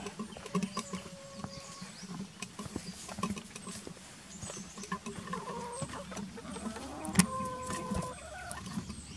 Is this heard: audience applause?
no